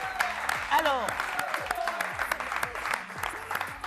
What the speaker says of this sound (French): le public applaudissez nos deux magnifiques hôtesses